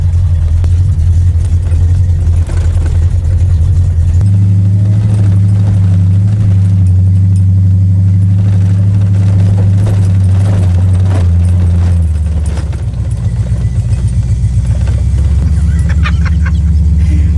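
An AMX's engine, fitted with a carb cheater, rumbles loud and close, idling low and then stepping up into a stronger sustained rev before easing back to a choppy idle, with no talk.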